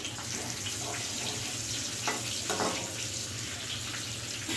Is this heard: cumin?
yes